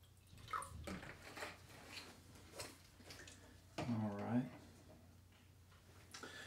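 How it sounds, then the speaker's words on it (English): Soft talking and light handling noises, then water pours briefly into a cup, the pitch rising as the cup fills. "I'm going to go ahead and pour some water in here."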